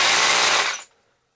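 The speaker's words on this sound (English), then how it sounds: "we're just going to keep drilling like that all the way on down" A power drill bores a hole to bolt down a gun cabinet: a loud, steady whirring grind held close for most of a second, then cutting off abruptly into silence.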